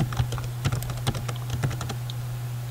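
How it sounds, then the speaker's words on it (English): Someone types a username and password on a computer keyboard, producing a quick, irregular run of close, crisp key clicks over a steady low hum, with no one speaking. "type in your username and your password"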